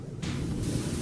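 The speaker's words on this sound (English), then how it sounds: "The sounds of washing are very white noise-like." Pressure washer spraying in PowerWash Simulator, a steady broadband hiss that kicks in loudly after a brief quieter start and holds constant through the clip.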